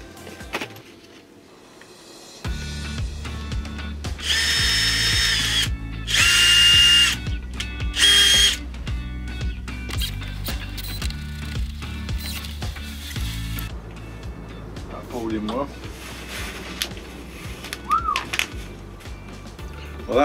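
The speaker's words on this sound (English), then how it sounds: "So you literally just put this attachment to your drill, put your rib nuts in, push it in, do the drill up, pulls them tight." Battery drill with a rivet nut kit attachment setting rivet nuts to fix battening inside a van conversion, a loud sustained motor whine rising and falling over several seconds, then quieter mechanical clicks and creaks as the nut pulls tight.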